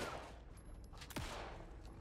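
Gunfire in Alan Wake 2 aimed at a trickster enemy, a quick burst of shots over the game's ambient rumble, with a descending whoosh in the middle.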